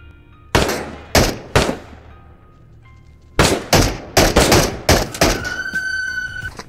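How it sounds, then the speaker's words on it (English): Gunfire in the video game Into the Radius: sharp single shots, then a rapid irregular volley of loud close bursts, ending with a ringing tone. "Thank God he decided to shoot at me after I was already inside the house."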